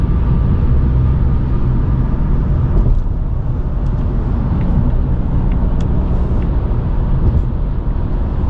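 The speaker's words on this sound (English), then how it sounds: "There's so much traffic today" Heavy road traffic heard from inside a moving Ford EcoBoost car, a loud, constant low road and engine rumble with faint passing sounds.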